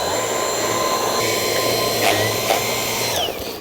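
Vacuum cleaner droning steadily at close range while sucking dust off a Blueair air purifier filter, with a loud continuous whine and slight pitch shifts as the nozzle moves before it tapers off.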